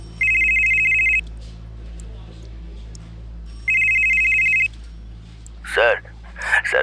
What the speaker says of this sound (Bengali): ঠিক তখনই রাঘবের ফোন এলো।